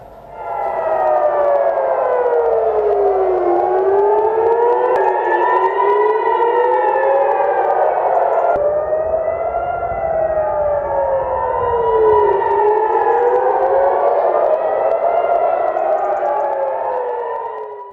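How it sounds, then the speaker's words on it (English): Air raid sirens in Israel wail continuously, their rising and falling tones overlapping from several directions, loud and sustained with no voices. "Over in Israel, you can hear the air raid sirens ring."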